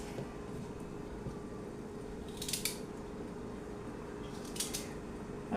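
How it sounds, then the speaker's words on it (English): Knife or scissors snipping through stem vegetables in a home kitchen for Jamaican-style beetroot chicken, two crisp cutting bursts a couple of seconds apart over a quiet background. "I'm going to cut them like you see"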